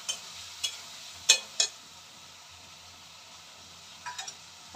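Potatoes, tomatoes and spices including cumin, chilli, turmeric and ginger paste frying in a pan: a low, steady sizzle with a few sharp spoon scrapes and taps.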